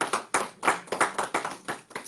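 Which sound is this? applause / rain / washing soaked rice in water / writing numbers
applause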